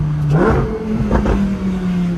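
A 2021 Lamborghini Huracan Evo Coupe downshifting through its dual-clutch gearbox, its engine blipping in short, loud rev flares close by, with the engine note rising and falling over a couple of seconds.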